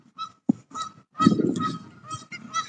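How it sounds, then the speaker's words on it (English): Geese honk repeatedly in loud, overlapping bursts, calling from a moderate distance with a busy, clamorous rhythm. "You can probably hear the geese in the background."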